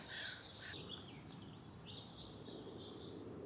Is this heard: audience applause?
no